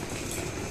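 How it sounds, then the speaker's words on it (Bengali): A train pulls out of Hooghly station with a loud, steady rolling rumble and a faint clickety-clack of wheels, heard close and alone for a brief moment. "ট্রেনটায় আমরা যাব ভাবলাম সেটা বেরিয়ে চলে"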